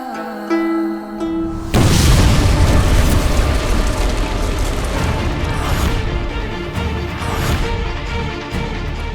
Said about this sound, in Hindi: ये कैसा धमाका था? हम पर हमला तो नहीं हुआ?